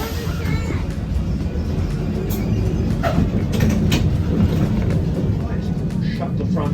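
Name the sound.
tram riding through Christchurch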